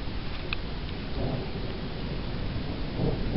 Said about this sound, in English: Oh, it's half hail, half rain.